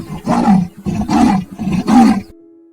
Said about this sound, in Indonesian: Macan tutul bisa mengaum.